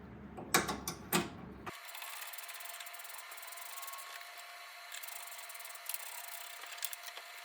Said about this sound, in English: let's get this old shock absorber off